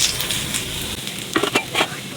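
Vermicelli sizzles in a pan with cinnamon, cardamom and bay leaf as it is stir-fried to a crisp. A steady frying hiss runs under a few scraping stirs toward the end, and no one speaks.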